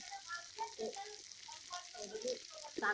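Carrots frying and being stirred in a pan, a faint sizzle mixed with a soft voice nearby.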